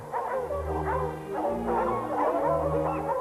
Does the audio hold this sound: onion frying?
no